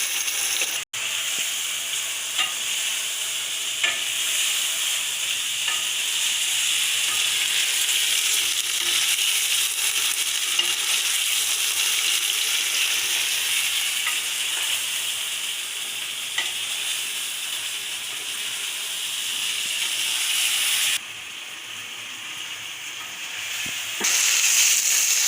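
Chicken sautéing and frying in oil in a pan for a lemon pepper recipe: a continuous loud sizzle and hiss with occasional faint stirring scrapes, briefly dropping in level near the end before resuming.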